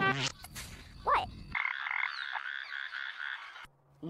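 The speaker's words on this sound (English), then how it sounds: "A frog does the same thing when it blows air out of its mouth and over its vocal cords to make some funky sounds" A frog croaking in a steady, buzzing trill that holds for a couple of seconds, close and clear, after a few brief unrelated sounds.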